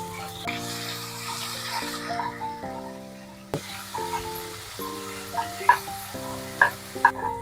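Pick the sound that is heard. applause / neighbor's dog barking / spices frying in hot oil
spices frying in hot oil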